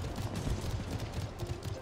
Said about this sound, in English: I think the fireworks are really cool.